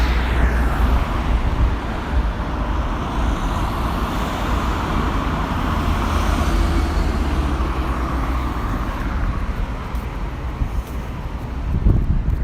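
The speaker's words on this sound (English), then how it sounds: "Wait for the traffic to stop now." Road traffic rolls past a pedestrian waiting at the roadside, a continuous broad rumble of cars with wind buffeting the microphone and a louder swell at the end.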